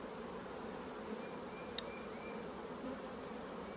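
Honey bees hum steadily around an open hive during a split, with a soft continuous drone and one brief sharp click partway through.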